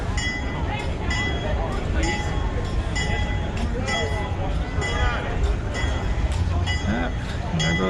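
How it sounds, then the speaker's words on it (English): A train rolls slowly past near a car show of rat rods and hot rods, with a continuous rumble, metallic clinks and squeals from the wagons, and people talking over it throughout. "There goes that train."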